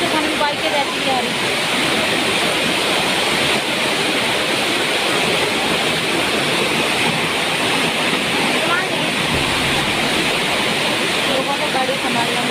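Floodwater rushes through a street in Haldwani, a dense, continuous roar that fills the scene at close range, with no break over several seconds.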